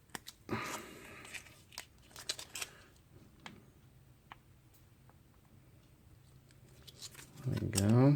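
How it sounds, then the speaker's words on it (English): A plastic MRE peanut butter packet from a 2012 vegetarian penne menu is handled and its corner torn off, with crinkling and small snaps, then a louder rip at the end, close up and mostly alone. "Trying to tear off a corner."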